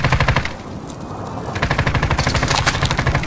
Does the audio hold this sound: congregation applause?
no